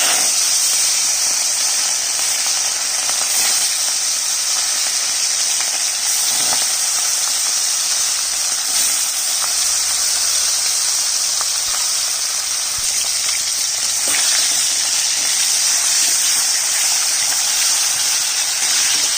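Fish fries in hot mustard oil in a kadai, a loud continuous hiss and sizzle that holds steady for the whole stretch with scattered small crackles.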